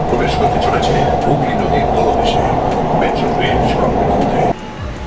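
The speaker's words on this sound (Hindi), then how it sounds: "ये है ट्रेन अंडर वाटर में चल रहा है" A loud, steady rumble of the Kolkata metro train running through an underwater tunnel, with a broad mechanical roar and faint clicks, easing slightly near the end.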